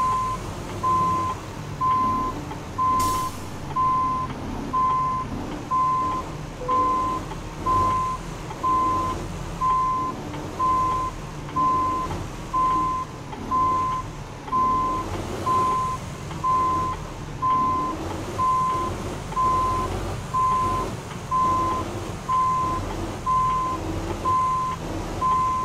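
Steady reversing beeps pulse at an even rhythm over a low truck engine drone as a heavy truck backs toward a loading dock with a trailer in American Truck Simulator, continuous and fairly loud, with no talk.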